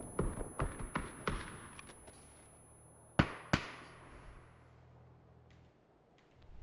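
Grenade explosions in the PUBG battle royale game: two sharp, loud blasts a fraction of a second apart in the middle, after a run of quicker popping impacts, with a low rumble trailing beneath.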